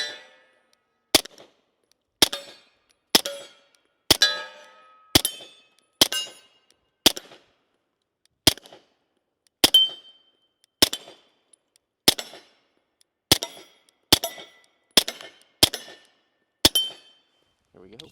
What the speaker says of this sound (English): Let's go ahead and load it up and shoot it some more.